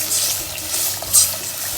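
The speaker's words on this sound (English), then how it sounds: "Now we have to add water." Water pours steadily into a cooking pot of simmering sauce for Moroccan couscous with meat and vegetables, a continuous close splashing stream with a brief brighter gush near the end.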